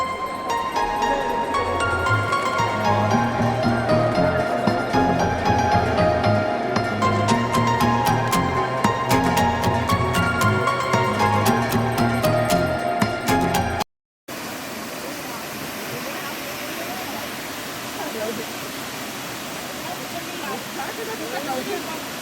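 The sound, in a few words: waterfall at Ghatshila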